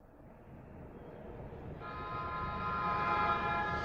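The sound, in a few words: children's train moving in Doraemon cartoon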